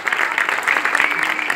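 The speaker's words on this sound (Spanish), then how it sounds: "Fuerte los aplausos, bravo." Audience clapping steadily after a children's pop ballet dance recital, a dense, even wash of applause from a crowd filling the short stretch with no pauses.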